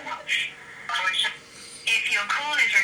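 Telephone call being placed, with ringing tones and a line signal coming through a phone receiver in short bursts, quiet and slightly distant, with a voice partly mixed in.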